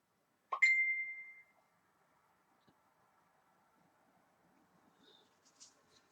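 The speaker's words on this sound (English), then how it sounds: "That annoying dinging noise is my phone." A mobile phone notification gives a single bright ding that rings out and fades over about a second, followed by near silence with faint, scattered small taps and clicks.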